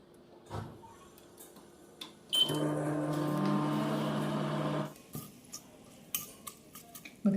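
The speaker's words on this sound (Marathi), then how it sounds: "तिला साधारणपणे आपण एक दोन मिनिटासाठी आपण मायक्रोवेव्ह करून घेणार आहे" A microwave oven runs for a few seconds heating sabudana khichdi mixed with ghee, giving a steady close hum with tonal bands, bracketed by clicks, beeps and kitchen clatter before and after.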